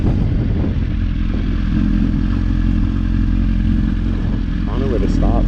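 Mini bike engines at a drag racing event, a loud continuous buzzing drone that holds steady throughout, with faint clatter nearby.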